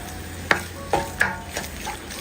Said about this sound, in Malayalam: 2 മിനിറ്റും കൂടി ഒന്ന് ഇളക്കി കൊടുക്കാം.